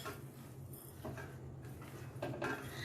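A spoon stirs a sweet-and-sour lemon pickle mixture with sugar and spice masala in a bowl, giving soft, irregular clinks and scrapes against a low steady background hum.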